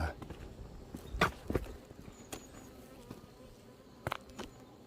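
Hornets buzzing around a beehive nearby, with sharp flutters and bumps standing out against a quiet outdoor background.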